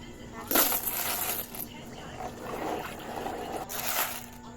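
Coins of saved money for a bike and motorbike being handled, with metallic clinks and jingles in short bursts near the start and end, close and moderately loud over a steady background hum.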